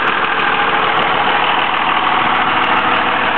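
A 2002 Dodge Ram 3500 4x4 flatbed with a six-speed and a Cummins diesel runs steadily at idle, its loud, even clatter and hum continuous and close throughout.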